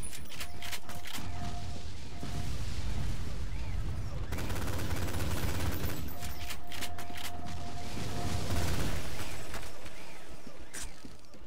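Continuous loud gunfire and fusillade in the Halo 2 video game, dense repeated shots with occasional heavier blasts and crashes running throughout, with no clear pauses.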